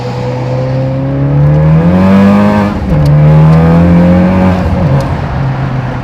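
A Honda Civic Type R (10th gen, FK8) engine revs up through first gear, drops briefly at a gear change into second while rounding a bend, then climbs again in second, loud and close.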